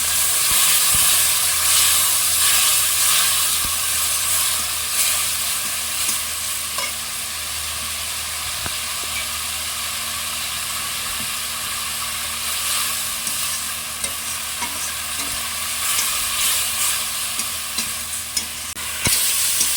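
Spice paste with salt, turmeric and a splash of water cooking down in a pan for a fish curry, a steady close hiss and bubbling sizzle with occasional stirring scrapes throughout.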